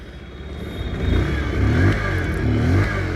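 A new 2023 Bajaj Pulsar 125 motorcycle with fuel injection sets off on a road test ride, its engine note rising as it accelerates and revs up close, with no talk.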